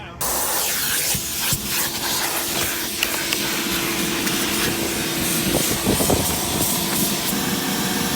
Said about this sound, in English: Gave it a decent vacuum.